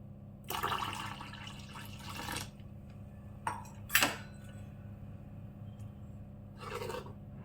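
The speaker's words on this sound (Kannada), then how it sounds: "ನಾಲ್ಕು ಕಪ್ಪು ನೀರು ಹಾಕಬೇಕು" Water poured into batter for a crispy breakfast dish: a couple of short, splashy pours with a light clink of a cup or vessel in between. Close but quiet, with no talking.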